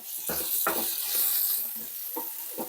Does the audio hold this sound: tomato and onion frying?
yes